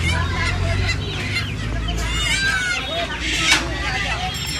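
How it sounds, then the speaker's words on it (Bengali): White Sonali chickens cluck and squawk at the Uluberia poultry market, busy overlapping bird calls close by under a hubbub of voices and market chatter. "ষাট টাকা পিস আছে দেখুন সাদা সোনালী মুরগ"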